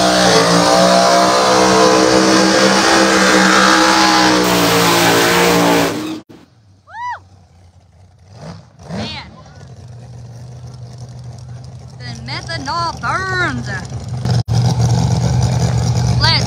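A Hemi drag race car roars at full throttle with dense broadband engine noise for about six seconds, then cuts off, leaving quieter crowd noise and voices with distant engine sounds building again.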